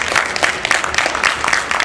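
A congregation claps for the young girls who dance at a church service, a short burst of dense, steady applause with no voices on top.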